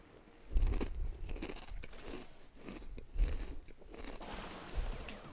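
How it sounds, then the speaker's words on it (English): Someone chews crunchy hickory sticks close to the microphone, with repeated bites and steady crackly crunching over several seconds and no talking. "let me know if the chewing sound is coming over, and if that's a sound you're okay with"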